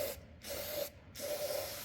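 Two short bursts of aerosol Shop Solve cleaner sprayed into fuel injectors from a 2002 Silverado 2500HD, close hissing spurts separated by a brief pause, over a faint steady hum.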